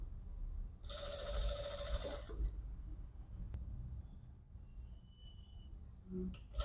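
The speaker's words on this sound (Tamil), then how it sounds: "நான் தையல் போட்டுறேன் கரெக்டாக இந்த தையல் வெளியில் தெரியாமல் மாதிரி திருப்பி தையல் போட்டுருங்க" A sewing machine runs in one short burst of about a second and a half while stitching a three-dot cut blouse, then stops, leaving quiet room noise with faint handling sounds.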